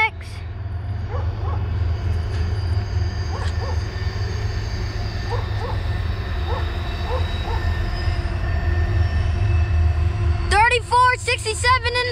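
A CSX manifest freight train rolls past the Halethorpe station platform on the nearest track in Maryland, a steady loud low rumble with repeated wheel clicks, ending in a burst of squealing wheels near the close.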